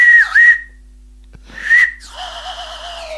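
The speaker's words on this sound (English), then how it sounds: "It's not a very good slide whistle" A cheap slide whistle blown in short bursts, two quick swooping pitch bends followed by a longer wavering tone, close, loud and alone.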